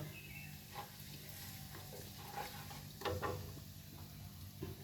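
Cumin seeds and asafoetida sizzle in desi ghee in a wok (kadai), a soft, steady frying hiss with a few small pops and crackles, heard alone without talk.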